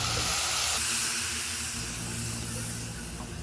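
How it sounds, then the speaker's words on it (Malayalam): Spices and lemon pieces hitting hot oil for a homemade lemon pickle, turmeric and chilli powder stirred in, give a loud, steady broadband hiss that sizzles strongly at first and then settles to a constant fry with no talking. "ഈ ചൂട് എണ്ണയിലേക്ക് 1 ടീസ്പൂൺ മഞ്ഞൾപ്പൊടിയും 3 ടീസ്പൂൺ മുളക് പൊടിയും ഇട്ട് ഇളക്കിയതിന് ശേഷം അതിലേക്ക് കട്ട് ചെയ്ത് വെച്ചിരിക്കുന്ന നാരങ്ങ ചേർത്ത് കൊടുക്കുക"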